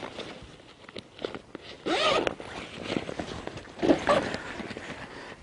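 Zipper on the lid pocket of a Tasmanian Tiger Mission Pack backpack, pulled in two bursts with rasping zips, close up, with fabric handling between.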